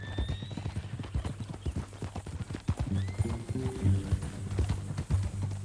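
Horse hooves clip-clop steadily in the Red Dead Redemption 2 video game, close and fairly loud, with a horse whinny and a low rumble running underneath.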